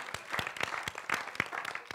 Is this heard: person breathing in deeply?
no